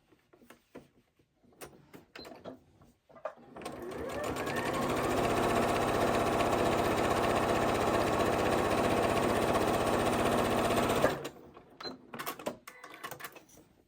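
A Janome 8200 QCP sewing machine stitches an X pattern across fabric for a bowl cozy, running in one steady, even whir for about seven seconds, with quiet handling clicks before and after.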